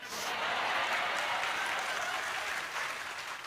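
Applause from the audience at an Indonesian religious lecture runs throughout, a soft, even wash of clapping heard at some distance with no speech over it.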